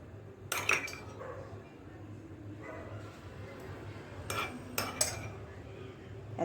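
Yogurt whisked in a bowl with a spoon, heard as quiet stirring under a few sharp metallic clinks and clatters against the dish, close up with no talking.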